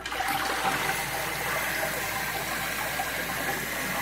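A household toilet that has just had a new fill valve and flapper fitted flushes with a loud, steady rush of water. The gush and swirl hold evenly for about four seconds, close by, with no talking.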